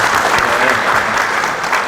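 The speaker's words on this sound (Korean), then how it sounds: "다시 한번 박수 좀 부탁드리겠습니다." Dense applause from a forum audience fills the hall, a loud continuous wash of clapping hands that holds steady for the whole stretch.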